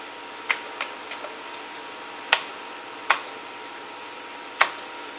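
Scattered keystrokes on a Commodore 64 keyboard: a handful of sharp, isolated clicks spaced irregularly over a quiet, low hum, with no speech.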